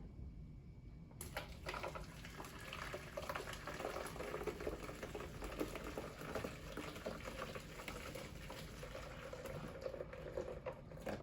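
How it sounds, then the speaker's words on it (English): Freshly boiled water pouring steadily into the hopper of a Tommee Tippee Perfect Prep machine after a brief quiet start, a continuous hissing, bubbling flow up close that lasts throughout. "I've just boiled the kettle so we can carefully pour our boiled water into the hopper"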